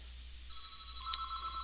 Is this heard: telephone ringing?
yes